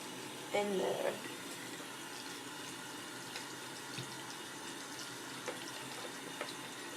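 Warm tap water runs steadily into a sink for cleaning makeup brushes, a soft, even hiss with a few brief splashes and clatters near the start, and a quiet voice speaks over it.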